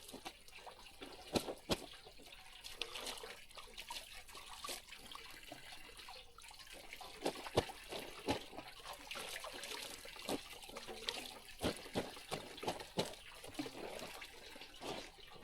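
Water from a motor pump runs in a faint, continuous trickle broken by irregular splashes and drips, heard from a little distance with no talk.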